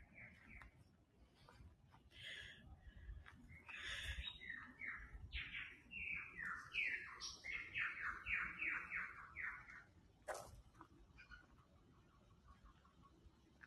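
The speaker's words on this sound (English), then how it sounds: "That bird song's amazing." Wild birds sing at the Mount York lookout above the Hartley Valley in the Blue Mountains, one bird giving a fast run of repeated bright notes over faint wind and quieter chirps.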